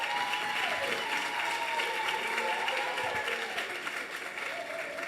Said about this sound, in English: Let's give a giant round of applause for Andrey Bustamante.